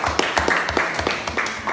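Clapping from a classroom group in an Indonesian school lesson, fairly quiet under a constant background hum, with scattered soft claps and a low rhythmic thump beneath them.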